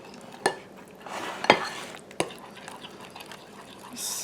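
Blackberry cobbler ingredients stirred in a bowl, giving a few sharp utensil clinks against the dish among soft scraping, fairly quiet and close.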